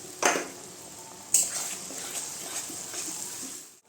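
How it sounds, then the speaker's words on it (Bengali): Onion and garlic fry in a pan as spice paste is added, with a steady soft sizzle, two louder stirring scrapes and light utensil clatter close by. "পেঁয়াজটা ভাজা হয়ে গেছে রসুনটা দিয়ে দিলাম"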